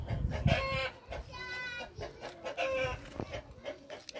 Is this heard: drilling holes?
no